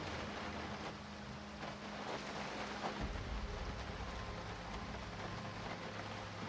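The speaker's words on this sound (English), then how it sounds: "And it is quite rainy." Steady rain in the survival game Project Zomboid during stormy weather, a faint continuous hiss with a low rumble that swells briefly near the middle and carries no voices.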